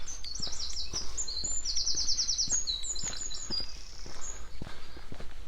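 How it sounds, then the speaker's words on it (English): Birds chirp and trill in quick bright phrases on a morning footpath in Norfolk, England, with soft footsteps crunching along steadily beneath them. "You can hear the birds singing well this morning."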